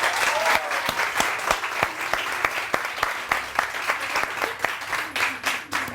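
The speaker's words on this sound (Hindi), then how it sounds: "once again, तालियां" Studio audience clapping on a Pakistani morning television show, a few dozen sharp, fairly evenly spaced claps rising over a dense wash of applause, loud and continuous with no talking on top.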